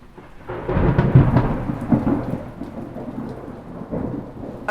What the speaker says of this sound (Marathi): त्यात पाऊस येतोय